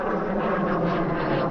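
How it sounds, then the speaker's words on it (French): A steady, loud roar of an airplane passing low overhead near Lille airport, with a broad engine rumble holding constant throughout and no voices. "Tiens, on va regarder l'avion"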